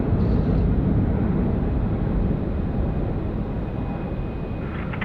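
A heavy international airliner at Sydney Airport roars with a broad, continuous jet rumble, loud and steady across the whole stretch and easing slightly toward the end.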